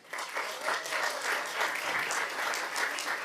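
A Board of Education meeting audience gives a round of applause, dense steady clapping from many hands filling the room evenly for a few seconds, with no voices over it.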